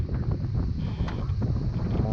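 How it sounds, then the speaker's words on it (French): Wind gusts buffet the microphone at a sailboat anchorage near Saint-Cyprien, a low, rumbling, continuous roar with rustling texture, close and fairly loud throughout the short stretch. "Il y a du vent, il y a du vent, il y a du vent, il y a du vent."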